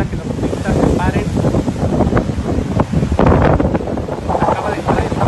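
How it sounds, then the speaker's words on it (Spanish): Strong sea waves driven by a cold front break against the seafront along Boulevard Manuel Ávila Camacho in Veracruz. Heavy wind buffets the microphone in gusty rushes, with a voice partly audible beneath the churning surf. "Vemos como el oleaje, el gran oleaje, está sacando las olas y piedras."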